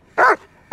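A German Shepherd gives a single sharp, loud bark close by during working-dog training, with quiet before and after.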